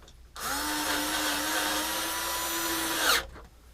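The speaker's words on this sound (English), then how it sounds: "I don't really think I need a full-on power drill" A power drill whirs at a steady pitch for about three seconds, then winds down and stops, close and alone.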